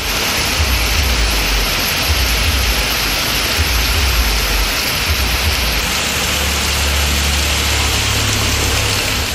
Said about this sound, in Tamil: சிவகங்கை மாவட்டம் மானாமதுரையிலும் கனமழை பெய்தது